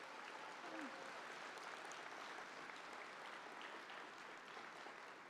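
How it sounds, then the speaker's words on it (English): Sustained applause fills a university gala hall, a dense steady wash of many hands clapping from the audience for several seconds at even loudness. "let's do a round of applause"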